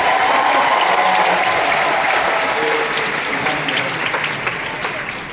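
Enthusiastic applause from the congregation at an evening session of a church summer retreat, a loud dense burst of clapping up close that slowly fades toward the end, with some voices mixed in.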